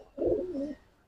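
A pigeon hen in a loft gives a single soft, rolling coo lasting about half a second, close and clear against a quiet background.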